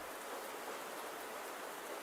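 Steady, soft rain from Love and Literature hisses evenly throughout, a continuous wash of falling drops with no voices.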